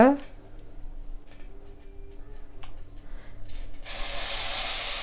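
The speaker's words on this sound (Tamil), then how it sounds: "அடுப்பு பற்ற வச்சுட்டு ஒரு பாத்திரத்தை வச்சுக்கோங்க." A burner clicks, then gas catches with a sudden steady hiss that continues to the end, following a quieter stretch of room noise.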